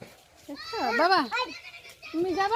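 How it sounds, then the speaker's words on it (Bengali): A young goat and its mother in an open village yard give short wavering bleats, close by, mixed with a voice and an adult talking to the child. "এই যে দুটা ছাগল, এই যে উঙ্গা বাচ্চা একটা ছাগল।"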